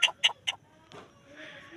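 A chicken gives three quick, sharp clucks close by, then a fainter drawn-out squawk and rustling follows.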